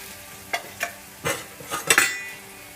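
A carrot and pea curry stirred in a pan after garam masala goes in, with several close scraping strokes over a low sizzle and no talk.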